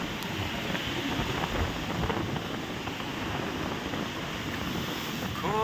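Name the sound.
sea water washing up on the beach at Negombo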